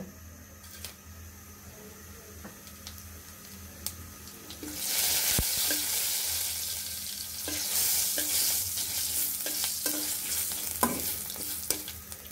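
Panch phoron spices hit a little white oil and break into a loud, continuous sizzle, with a spoon scraping and stirring through the pan. A quieter stretch of faint kitchen noise comes before the sizzle.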